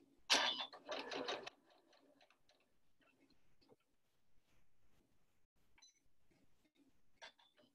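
A sewing machine stitches a fabric COVID face mask with bungee cord, giving a loud rapid whirring burst at the start, followed by quiet scattered clicks and handling noises.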